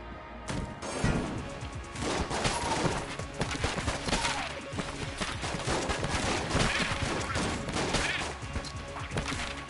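Revolver fire in the video game Enter the Gungeon, a single action army gun, rattles off in dense rapid shots and impacts, loud and near, with crashing hits layered throughout the busy game mix.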